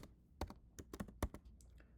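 Someone types on a computer keyboard, a quick uneven run of about a dozen soft key clicks, close and quiet with nothing else heard.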